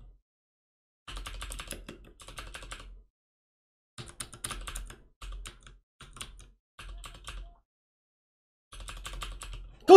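Bursts of typing on a computer keyboard, rapid key clatter in several separate runs with pauses between, close and fairly loud, no talking.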